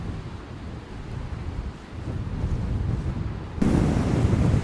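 Sea waves rushing against the cliffs of a Shetland headland, a continuous roaring wash mixed with wind that swells suddenly louder near the end.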